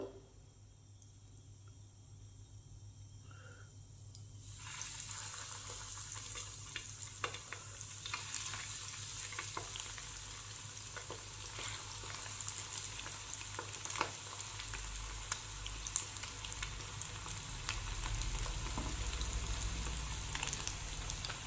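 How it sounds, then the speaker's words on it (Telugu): Chicken lollipops go into hot oil to deep-fry. After a quiet start, a loud, dense bubbling sizzle rises and keeps crackling steadily to the end. "ఇప్పుడు మనం ముందుగా ప్రిపేర్ చేసుకున్న ఈ లాలీపాప్స్ని స్లోగా ఆయిల్లో వేసుకొని ఫ్రై చేసుకుందాము"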